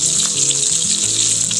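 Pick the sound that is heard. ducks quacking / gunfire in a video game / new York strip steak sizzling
new York strip steak sizzling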